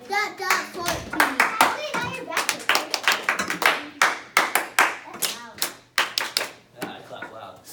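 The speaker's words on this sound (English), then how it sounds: "I clap loud" Loud, sharp hand claps ring out in quick irregular bursts, close by, mixed with a voice talking over and between them.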